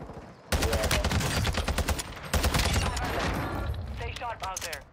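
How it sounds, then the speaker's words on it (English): Warzone 2 gunfire comes in rapid, loud automatic bursts. A brief quiet lead-in gives way to sustained firing, then a pause and a second long volley that tails off at the end. "There's a dude behind you shooting"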